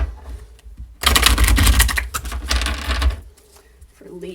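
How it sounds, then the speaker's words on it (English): A deck of tarot cards is shuffled close up, a dense crisp riffling burst lasting about two seconds, then a shorter second flurry before quiet. "Shuffle up again for Libra."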